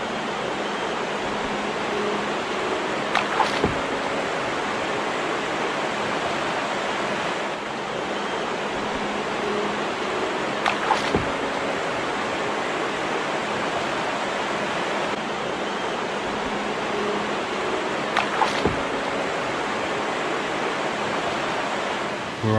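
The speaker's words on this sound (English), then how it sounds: "Let's go check out the rapids." River rapids and current on the Croton River churn in a constant broad wash of water, steady and fairly close, broken by a few faint periodic knocks.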